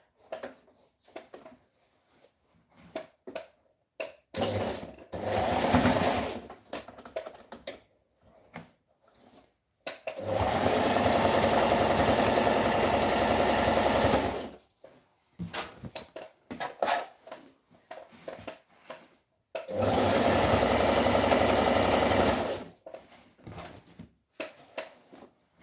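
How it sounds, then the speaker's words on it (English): A sewing machine runs a straight stitch across fabric for a gathered skirt, two long continuous whirring bursts of several seconds each, with shorter handling noises and clicks in between. "I want to run a straight stitch right on it"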